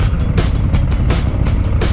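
A Honda Africa Twin motorcycle engine works hard climbing an off-road hill, a loud continuous rumble with rhythmic pulsing and gravelly crunch from the tires, recorded close.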